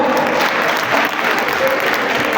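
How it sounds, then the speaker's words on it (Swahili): Loud, steady applause from an audience at a 75th-anniversary gathering as an honourable member of parliament departs, continuous clapping with a slight swell at the end. "mheshimiwa atatuacha, tuwapigie makofi wanapoondoka"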